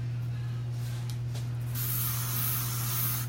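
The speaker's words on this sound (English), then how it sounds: "Just utilizing the spray to also give it hold" Hairspray misted onto a finished updo hairstyle in a salon: a steady close hiss that swells and lingers from about halfway through, over a constant low hum.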